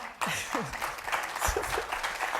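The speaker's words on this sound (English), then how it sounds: "please do applaud them" An audience at a panel discussion breaks into a brief round of applause, a moderate wash of clapping with a few voices mixed in.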